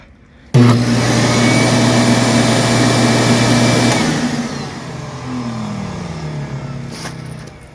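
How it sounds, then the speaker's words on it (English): A shop vac and the motor of a homemade lapidary machine switch on together with a sudden loud start, running as a steady droning whine, then the pitch drops and shifts as the load changes, with no talking. "so the motor and the shop vac come on at the same time"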